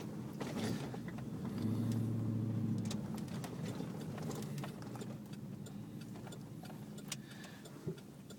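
A 2008 GMC 1500 truck with a 6.0L V8 converted to run on CNG, accelerating: a steady, fairly faint engine drone that rises briefly, with a few light ticks and no talk.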